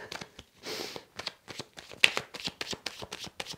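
Tarot cards being shuffled by hand, a quiet run of crisp riffling bursts and soft slaps in an uneven rhythm, close and alone without talk.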